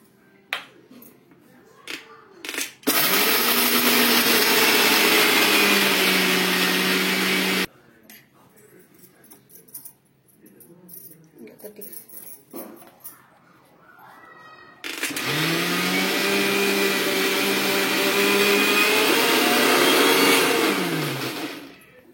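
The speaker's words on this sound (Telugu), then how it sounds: "ఇప్పుడైతే మిక్సీకి అయితే వేసుకోవాలండి. వేయించి పెట్టుకున్న జీడిపప్పు, అలాగే పల్లీలు, అలాగే నువ్వులు." A mixer grinder runs in two loud, sustained bursts, grinding roasted cashews, peanuts and sesame seeds, with a steady high whirring motor and rattling contents, separated by a quieter pause with scattered clicks and handling noise.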